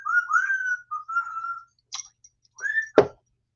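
Someone whistles a short melodic phrase from Phantom of the Opera in several separate notes, close and clear, followed by a sharp click at the end.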